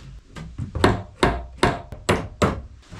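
A hammer taps a mini drill bit used as a punch into wood, giving about seven sharp, close metallic knocks in a fairly even rhythm.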